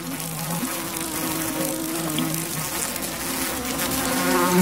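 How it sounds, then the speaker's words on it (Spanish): A dense, loud swarm of honeybees attacking a giant Asian hornet drones and buzzes continuously close by, growing slightly louder toward the end. "las abejas arremeten al avispón mordiéndolo y picándolo varias veces"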